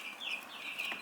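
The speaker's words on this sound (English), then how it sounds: "we have the second cage with some buff Orpingtons and 2 Andalusians." Buff Orpington and Andalusian chickens cluck in a cage inside a greenhouse, giving a few soft, close calls over a steady background with no talking.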